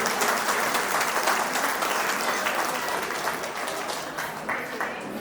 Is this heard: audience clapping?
yes